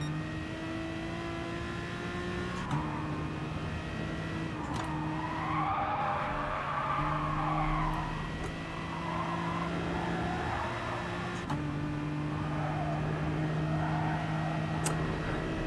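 In the Gran Turismo Sport racing game, a car's tires screech and skid during snap oversteer, with a drawn-out squeal swelling over the sustained hum of the race car engine as it shifts and revs.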